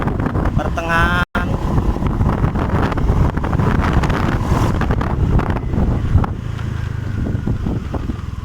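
Honda Vario 125 scooter engine revving under throttle while losing power at high RPM, a loud, rough, continuous engine drone with wind-like noise, and someone talking over it.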